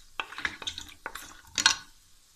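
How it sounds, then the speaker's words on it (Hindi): Mutton achari ghosh being stirred and roasted in a pan, with a series of close scraping and clinking spoon-on-pan strokes, irregular and brief, with no talk. "अच्छे से इसको भून लूँगी"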